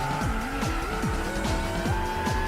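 Old muscle car accelerating hard in Gran Turismo 6, its engine note climbing through repeated gear changes with rising and dropping pitch, mixed with faint tire squeal, loud and steady throughout.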